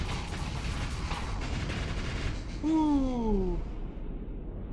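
Torpedoes burst into swarms of mini torpedoes during a StarSector space battle, giving dense rumbling, crackling explosions that fade out, with a man's short exclamation over them.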